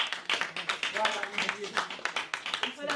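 A crowd at a poetry anthology event claps and applauds steadily for a few seconds, dense overlapping hand claps with a voice or two mixed in.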